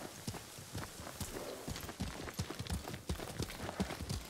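Rapid hoofbeats of a large white horse galloping in the video game Ghost of Tsushima patter steadily over a dense background wash, fairly faint and continuous throughout.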